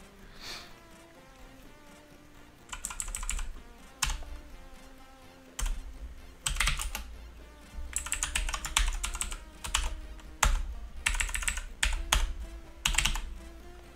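Keys clatter on a computer keyboard in bursts of rapid typing, close and fairly crisp, separated by quiet gaps, with a faint buzzing hum underneath and no talking.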